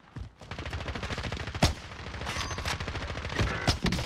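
Dense automatic gunfire in the video game Call of Duty: Warzone, fast rapid-fire bursts rattling continuously and loudly with a few sharper single cracks mixed in.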